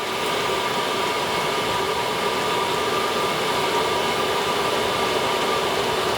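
A diesel heater runs with a large exhaust silencer fitted, giving a constant, even broadband hum with a faint steady tone, close and unchanging throughout.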